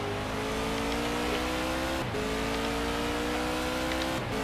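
Race car engine on full throttle at the Paul Ricard circuit in a racing game, loud and steady with a rising whine, briefly dipping at two quick gear changes before pulling hard again.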